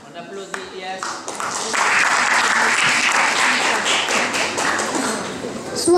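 An audience at a school spelling bee applauds a contestant, starting with a few scattered claps and building into a loud, sustained round of clapping.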